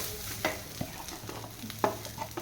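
Grated coconut is sautéed in hot oil in a pan, close scraping stir strokes and soft sizzling recur every half second or so over a low background hum, with no talking.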